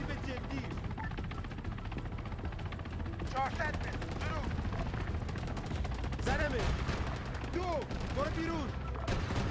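Gunfire in the video game Arma 3 Antistasi, with repeated bursts and single shots popping over a dense rumbling battle backdrop, while a voice talks over the fighting.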